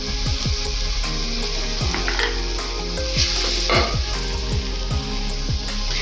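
Spices sizzle and crackle steadily in hot oil while frying for egg biryani, with a loud, continuous hiss and occasional stirring scrapes in the pan.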